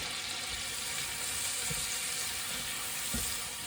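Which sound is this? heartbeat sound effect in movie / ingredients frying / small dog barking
ingredients frying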